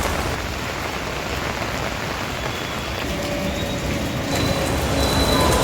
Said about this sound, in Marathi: धुवाधार पावसात भिजणारा डोंगर आणि खळखळणारे पाणी